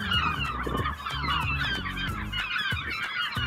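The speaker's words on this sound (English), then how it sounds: "I'm surprised if you can hear me over the seagulls." Seagulls calling near a lighthouse island, a dense, continuous chorus of harsh, honking cries with many overlapping birds, loud and close throughout over low rumbling wind or water.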